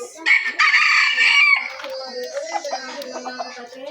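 A half labuyo, half Chinese chicken rooster crows loudly and close up in one drawn-out call, followed by clucking and voices talking nearby.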